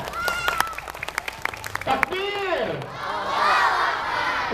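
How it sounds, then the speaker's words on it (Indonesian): Children at a Ramadan Islamic school event clap and cheer together in a short burst of applause, with shouts and excited voices rising over the noisy room. "Tepuk tangan buat Kiano teman-teman."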